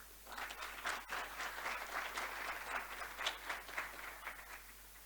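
An audience at a conference panel session claps warmly, a moderate, fairly distant wash of applause with slight swells that holds steady for several seconds.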